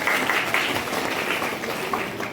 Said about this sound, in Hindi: ताली बजाइए तो बच्चों।